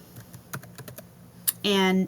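Computer keyboard keys click in quick irregular taps, close and crisp, followed at the end by a short burst of a voice speaking.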